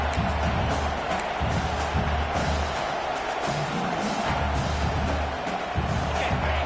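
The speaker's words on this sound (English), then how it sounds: "This crowd bringing the energy and noise early" A football stadium crowd at a Florida State game roars in a dense, steady wall of cheering and noise, with no break in the din.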